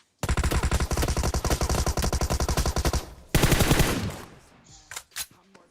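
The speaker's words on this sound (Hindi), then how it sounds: "कतई टॉमी गन चला रहे भाई" A Tommy gun fires in the mobile battle royale game PUBG Mobile: a long, loud, steady automatic burst, a brief pause, then a second heavy burst, and a few scattered shots at the end.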